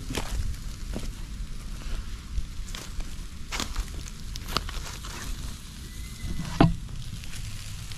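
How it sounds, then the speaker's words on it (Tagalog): Hot cooking oil bubbles and sizzles steadily while food fries, with occasional sharp crackles and pops, near and moderately loud with no talking over it. "Kumukulo yung mantika, no?"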